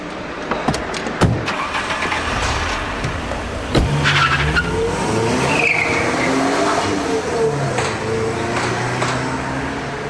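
An Italian sports car pulls away hard, its engine revving and climbing in pitch while the tires squeal and skid, with a few sharp knocks at the start and no speech.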